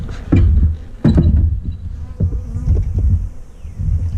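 Close, loud buzzing of several honeybees at a nuc hive, swelling and fading as they fly past in irregular bursts, with no talking.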